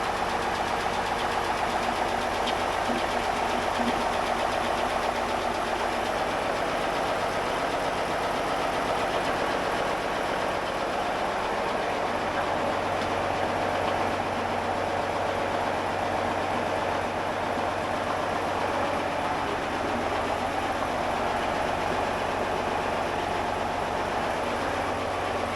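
The boat engine on Project Brupeg idles steadily after its first ocean test, with the turbo cooling down, making a continuous loud mechanical rumble with knocking texture that holds for the whole stretch, with no talking.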